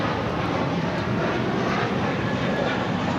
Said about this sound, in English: This takeoff is American Airlines 2543, taking off to Dallas Fort Worth on the A321.